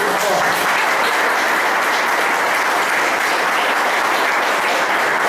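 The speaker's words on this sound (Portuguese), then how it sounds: "Pode dar uma salva de palmas para Jesus" Church audience applause, a loud, dense, continuous wash of clapping that holds steady from start to finish.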